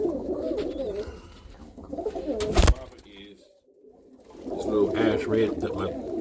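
Roller pigeons coo in low, soft throaty bursts close by, with someone talking over and between the calls and a brief sharp noise partway through.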